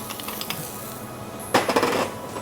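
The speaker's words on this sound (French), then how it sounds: "vous ajoutez vos graines de moutarde dedans" Mustard seeds dropped into a hot pan of caramelised onions, a short burst of rattling, pattering clicks over a steady background hiss, close and fairly clear.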